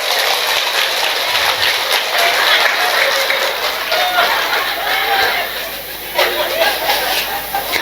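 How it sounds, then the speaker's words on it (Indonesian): A crowd at an Islamic religious lecture gives a sustained round of applause, broad continuous clapping with faint chatter mixed in, loud and close throughout. "Tepuk tangan"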